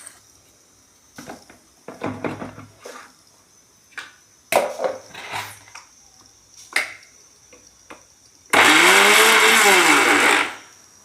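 After a series of short clicks and taps, a blender grinding garlic roars into a loud, steady grinding whir for about two seconds before cutting off.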